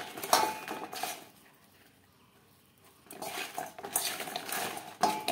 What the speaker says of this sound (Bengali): লবণ হলুদ পটলে বেশ ভালো করে মেখে নিয়েছি।